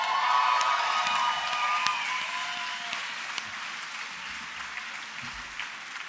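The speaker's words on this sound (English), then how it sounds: "Which absolutely deserves a round of applause" Awards ceremony audience at the British LGBT Awards clapping and cheering, a dense roomful of applause that starts strong and gradually thins, with a few louder claps and voices poking through.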